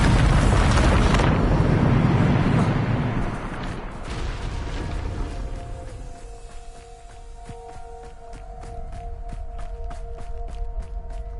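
A Bombarda blast spell in Hogwarts Legacy sets off a loud, rumbling explosion that roars at once and slowly fades, followed by a string of quick clicking game effects and a faint humming tone.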